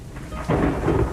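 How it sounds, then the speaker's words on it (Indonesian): A low rumble of thunder during a rainstorm swells after a brief lull, deep and rolling over a continuous hiss of falling rain. "Petir membelah langit, menyambar jauh di utara."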